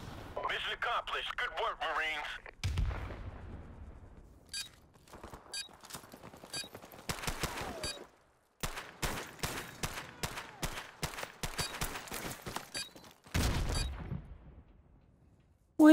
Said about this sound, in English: Oh my god, the recoil doesn't even exist on this gun.